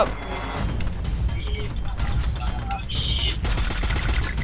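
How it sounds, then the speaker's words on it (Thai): Rapid gunfire from a Titan gun in the Free Fire battle game, bursts of shots cracking over busy game audio, with voices talking in the background. "ดูไททันยิง"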